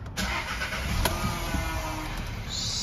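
A 2014 Volkswagen Golf 1.4 TSI engine turns over and catches, then settles into a steady idle rumble close by, with a brief click near the start.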